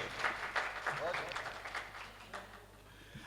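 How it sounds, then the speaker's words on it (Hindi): An audience at an Urdu poetry mushaira in Jabalpur claps in welcome, a fairly faint, diffuse spatter of applause heard under someone speaking over a microphone. "आप तालियां बजा के इस्तकबाल में शामिल हो सकते हैं।"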